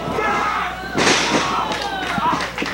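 At a CWF Mid-Atlantic wrestling match, a wrestler is taken over with a suplex. The body hits the mat with a loud thud, and the crowd noise swells while commentators keep talking.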